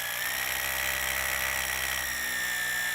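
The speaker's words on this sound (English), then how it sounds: "Drill holes with a hammer drill." A hammer drill bores holes into a poured concrete masonry wall, a loud, steady high-pitched whine with a constant grinding buzz that runs unbroken throughout.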